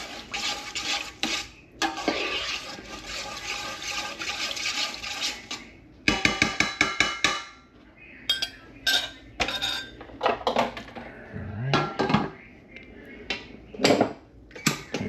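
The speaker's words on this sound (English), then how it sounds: "Just give this a little stir." Seasoned fish being stirred in a pot, with utensil scrapes and clinks against the metal coming in loud, irregular bursts and short pauses, close up and with no talk.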